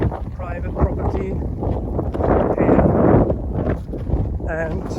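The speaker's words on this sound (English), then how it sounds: "It's a little windy here." Wind buffets the microphone in loud, gusty rushes in the desert on the Pacific Crest Trail, swelling midway, while a person talks over it.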